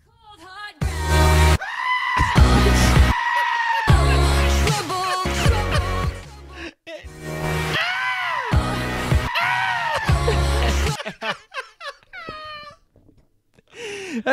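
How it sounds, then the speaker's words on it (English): Goats bleat loudly and repeatedly in long, wavering, almost human-sounding cries, close and harsh, separated by short gaps, with no talk over them. "Stupid goats."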